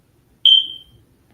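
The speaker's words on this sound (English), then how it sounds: "I could hear this alarm beeping. It's like it's beeping quick." A smoke alarm sounds one sharp, high electronic beep that rings out briefly and fades in otherwise near silence.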